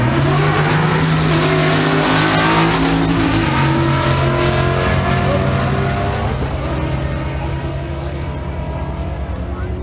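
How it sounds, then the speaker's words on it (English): A turbocharged 331-cubic-inch Mustang LX convertible drag races at a raceway, its engine roaring loud and sustained with a pitch that holds and then drops, a track announcer speaking over it. "Blue in the Canadian and the Mustang LX convertible, 331 cubic inches of turbo charge."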